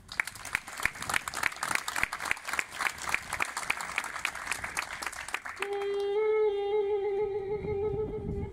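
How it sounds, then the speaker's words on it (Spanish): Audience at an outdoor tribute and bust unveiling in Puerto del Rosario breaks into dense, sustained clapping for a welcomed performer, before a held musical tone cuts in near the end. "Para él pedimos el aplauso de bienvenida."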